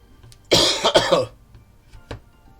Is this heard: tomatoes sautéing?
no